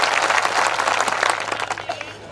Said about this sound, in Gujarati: એમનું પણ એકવાર જોરદાર તાળીઓના ગણગણાટથી એમનું સ્વાગત કરી લઈએ